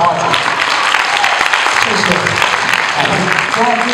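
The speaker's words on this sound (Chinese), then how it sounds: "掌声欢迎现代杨丽华" A crowd at a Taiwanese opera (gezaixi) stage event applauds to welcome performer Yang Li-hua: dense, steady clapping runs the full length, with voices talking over it.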